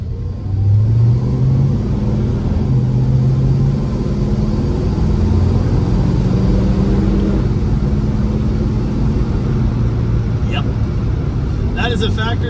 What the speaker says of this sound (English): It's a factory spec built 440 HP. It's smooth, it's got plenty of torque, it sounds fantastic.